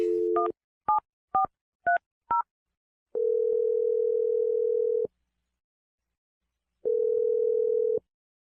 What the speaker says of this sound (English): We're going to dial Ryan's phone number and try and get your second date